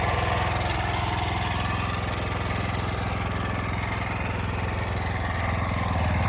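A soil-throwing machine's engine runs at raised speed, a loud, steady, unbroken mechanical drone with a constant low hum throughout and no voices.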